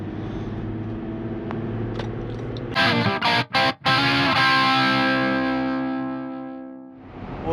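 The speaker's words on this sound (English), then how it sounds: "This is an acceleration test with the trailer behind me." A fifth-generation Toyota 4Runner accelerates while towing a trailer, its engine a steady humming drone inside the cabin, briefly broken by a couple of sharp dropouts before it trails off.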